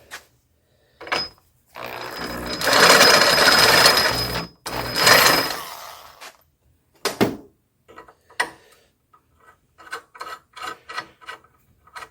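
A drill bores a hole to enlarge it for a bolt, a loud grinding whir lasting a few seconds, followed by scattered clicks and knocks of handling.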